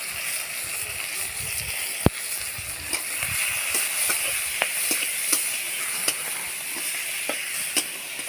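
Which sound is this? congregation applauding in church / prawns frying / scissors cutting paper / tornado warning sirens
prawns frying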